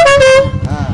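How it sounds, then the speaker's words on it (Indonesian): A loud, sustained horn blast with a bright, harmonic-rich tone like a truck air horn, from a Suzuki Inazuma motorcycle fitted with a truck-style horn, held steadily before fading against an idling engine rumble. "saya kasih dengar suara klaksonnya nih"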